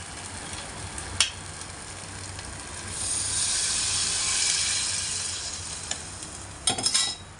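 Water is poured into a pan of ground masala paste frying in oil for a rustic prawn curry. A steady hiss swells into a louder sizzle, with a few clinks of a utensil near the end.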